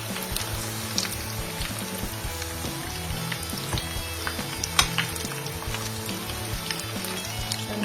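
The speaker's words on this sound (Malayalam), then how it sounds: "ഒരു മീഡിയം ഫ്ലെയിമിൽ വെച്ച് ഇങ്ങനെ ഒന്ന് തിരിച്ചിട്ട് കൊടുത്ത് 2 സൈഡും തിരിച്ച് മറിച്ചിട്ട് കൊടുത്ത് വറുത്തെടുക്കാം" Fish cutlets fry in oil over a medium flame, giving a continuous close sizzle dotted with small pops and crackles.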